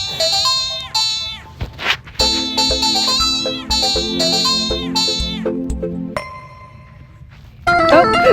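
A Sprunki ringtone played back through a speaker, bright chirpy melodic phrases repeating in quick bursts, a quieter sustained passage near the end, then a new bright tune starting.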